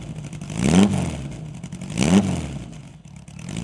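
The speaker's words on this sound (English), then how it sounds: "So we'll listen to them starting and revving" A Porsche 550 Spider replica with a 2.4-litre flat-four engine is revved twice in quick succession, each blip rising sharply and falling back to a rough, close idle between them.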